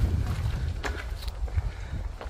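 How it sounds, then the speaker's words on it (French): Strong wind buffets the microphone on a coastal path in Brittany, a steady low rumble that fills the whole moment with a few faint rustles on top and no voices. "Oh le vent!"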